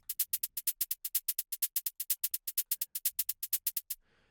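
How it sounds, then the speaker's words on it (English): A crisp, bright melodic techno hi-hat loop ticking in a quick, even pattern of about two dozen hits, playing alone before cutting off. "later we'll have another hi-hat loop in the main drop"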